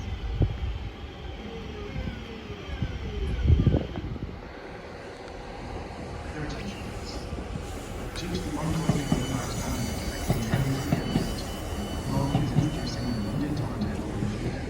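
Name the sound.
Class 156 train passing through station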